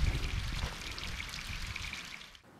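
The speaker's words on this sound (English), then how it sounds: "I let the water out slowly, so it doesn't make the ground muddy and wet." Water draining slowly out of a large storage tank pours and splashes in a continuous, close stream, with low gurgling underneath, before cutting off abruptly near the end.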